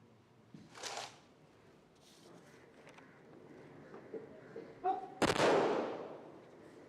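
Guns of the armed forces fire a military salute at a former prime minister's state funeral at a riverside cremation ground in Delhi; a sharp report early on, then a louder blast near the end, rumbling outdoors.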